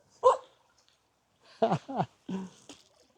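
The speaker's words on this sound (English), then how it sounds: "these dogs are having a whale of a time" Several dogs bark and yip in short, sharp bursts, a single bark followed by a quick cluster of three, close by at a riverside outing.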